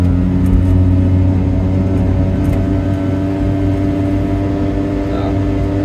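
Close, loud drone of a Piaggio Ape 50 three-wheeler's small engine under way on a road trip. The tone holds steady and rumbles for several seconds around a shift into second gear.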